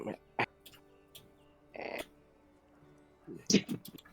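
During a Humblewood tabletop session, a person vocally imitates sad crow caws, giving several short, scattered croaking calls spread across a few seconds, close to the microphone and fairly quiet.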